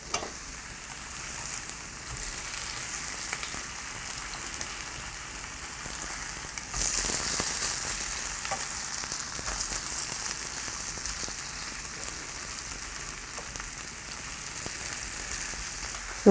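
Grated potato pancake (gamjajeon) frying in a generous layer of oil in a pan, a steady close crackling sizzle that swells louder about halfway through and carries on without talk.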